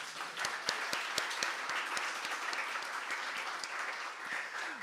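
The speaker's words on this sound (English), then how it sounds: "if we give all our awardees today a big round of applause" An audience at a university teaching excellence awards ceremony gives the awardees a round of applause: dense, even clapping with sharp individual claps, steady throughout and fairly faint.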